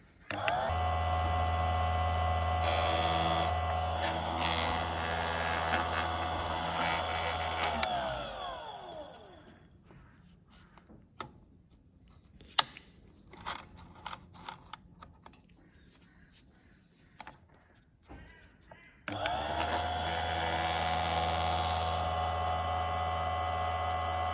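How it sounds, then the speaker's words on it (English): A Parkside 85W electric chain sharpener grinds the teeth of a saw chain, giving a loud, steady motor whine in two bursts, one at the start and one near the end, with a quieter stretch of small clicks and taps between them. "You only want to sharpen a chain for a few seconds to prevent heat buildup on the tooth."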